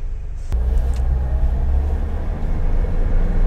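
A 1982 Toyota Corolla TE72 accelerates with a sudden onset of heavy, low engine rumble that stays loud and steady, heard from close by inside or near the car.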